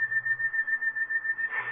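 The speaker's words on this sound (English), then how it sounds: "I've been hearing that song in my head. Like somebody whistling it." Someone whistles a slow, sad tune alone, a single clear sustained tone with a gentle wavering vibrato, close and steady for under two seconds.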